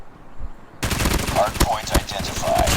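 Rapid automatic fire from a BK-57 rifle in Call of Duty Mobile, loud dense bursts of shots starting abruptly after a quiet moment and continuing steadily, with faint game sounds mixed in.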